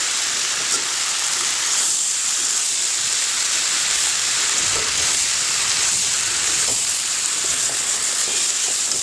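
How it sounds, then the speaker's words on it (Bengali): Small fish curry (chorchori) fries in a pan with a steady, close hissing sizzle and faint stirring scrapes, with no talking. "এবার এটাকে সুন্দর করে ভাজতে হবে যতক্ষণ পর্যন্ত না এত সুন্দর সেবার ছাড়ে সুন্দর করে ভাজতে হবে"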